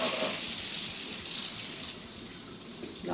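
Water sprays steadily from dual shower heads in a newly renovated small bathroom, a continuous hiss of falling water throughout.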